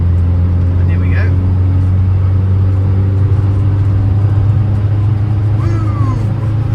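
A car accelerates along a country road near Southwell, heard from inside as a loud steady engine drone and road rumble, with a voice cutting in briefly over it.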